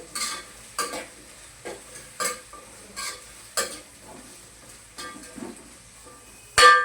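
Salt being stirred into vegetables for veg fried rice, a utensil scraping through the pan in about nine regular strokes under a light sizzle, ending with a louder clatter against the pan.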